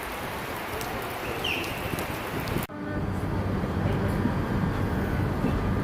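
Heavy rain pours outside a train station in Annecy, a dense steady hiss heard from indoors, with a sharp dip and shift in tone partway through and faint voices in the background.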